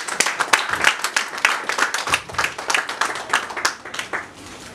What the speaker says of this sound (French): je demanderai qu'on acclame pour cette famille